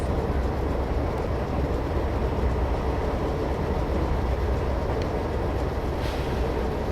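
A train glides down a gentle decline, a close, continuous rolling rumble with faint rail clatter and a couple of brief higher squeaks near the end, no talking.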